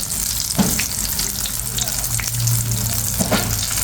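A bread and egg dish fries in a pan with a loud, continuous sizzle, brief clanks of turning and stirring, and a faint background hum.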